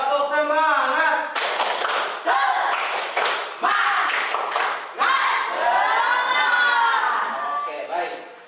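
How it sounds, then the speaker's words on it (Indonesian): A classroom of children doing a rhythmic spirit clap, with bursts of clapping and thumps mixed with shouted chanting voices, loud and close with brief pauses between sections. "Tepuk semangat."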